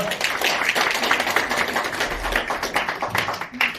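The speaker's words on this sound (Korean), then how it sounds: "다시 한번 큰 박수 부탁드리겠습니다" Audience in a hotel convention room at a training workshop gives a round of applause, a steady patter of many hands clapping at moderate loudness, tapering slightly toward the end.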